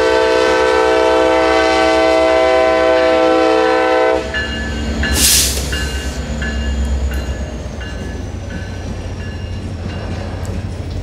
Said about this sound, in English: Today's train was pulled by two of CSX's rebuilt GP40-3s, numbers 6552 and 6526.